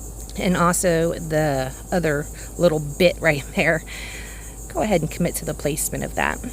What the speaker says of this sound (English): Right now, there's something making a bunch of noise. I think it's one of those locusts or cicadas or katydids or something loud and obnoxious.